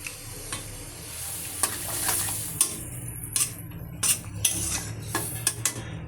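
Fish curry with turmeric sizzles gently in a pan while a metal spoon stirs it, scraping and clinking against the pot in irregular strokes, close and fairly quiet, with no talking.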